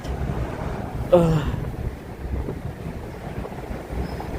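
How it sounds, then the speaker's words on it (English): Wind gusting on a New York City street at night along Fifth Avenue, a steady close rumble and buffeting across the microphone with a brief louder gust, traffic-like noise underneath and no clear speech. "The wind is killing me, man."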